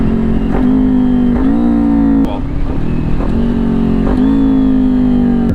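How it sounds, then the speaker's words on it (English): A motorcycle downshifts with the clutch pulled in, a quick throttle blip and a kick on the shifter, its loud, close engine drone rising in pitch several times in short revs. "we pull in the clutch, give a blip of the throttle, and kick down on the shifter"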